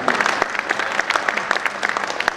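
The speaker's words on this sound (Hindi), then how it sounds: "आपकी तालियों की गड़गड़ाहट बोलनी चाहिए तो अच्छा है" An audience in a hall applauds with dense, steady clapping from many hands, close and lively throughout with no pause.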